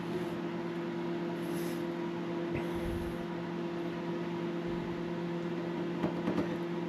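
A microwave oven runs with a steady, even hum and fan whir throughout, with a faint thump partway through and a few small clicks near the end.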